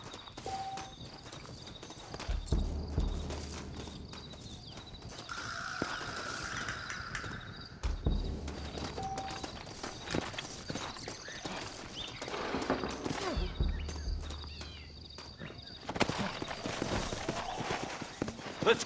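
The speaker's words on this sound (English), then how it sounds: "Looks like Carlos left us some horses." Horses trotting in Red Dead Redemption, a steady rhythmic clip-clop of hooves on ground with occasional whinnies and game ambience, continuous throughout, with brief voices in places.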